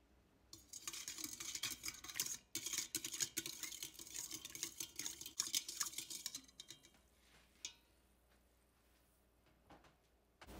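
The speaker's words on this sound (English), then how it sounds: "Stir the mixture together." A spoon stirs a mixture of active dry yeast, sugar and water in a bowl, producing a fast scraping, clinking swirl for several seconds that trails off into a few faint taps, close and alone.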